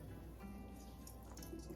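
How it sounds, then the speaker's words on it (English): Lemon juice squeezed from a halved lemon dribbles into a container of water, a faint, short spatter of drips in a quiet kitchen. "you can go ahead and just squeeze it into"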